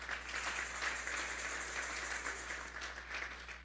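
A church congregation applauds during a sermon, a steady wash of many hands clapping together over a low constant hum, fairly quiet and sustained.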